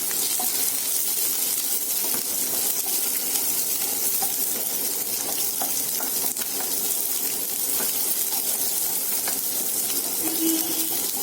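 Six big sliced shallots sizzle in hot oil for a chicken curry, a dense, even crackling hiss that carries steadily throughout with faint stirring clicks and no voices.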